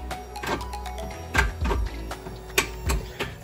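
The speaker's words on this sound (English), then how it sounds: "So you can hear the pump cycling and the actuator going through the learn process" A Ferrari 360 Challenge Stradale F1 gearbox, its hydraulic pump whirring and the actuator clicking and thunking through a gear-learning cycle, heard as a steady low hum with irregular mechanical clacks at close range.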